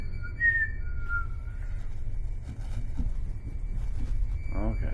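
A person whistles a couple of short high tones at the start, faint against steady low background rumble, followed by quiet voices and shuffling noises.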